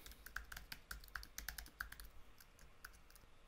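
Computer keyboard keys tapped in short irregular bursts while a password is entered, crisp close clicks over a quiet room.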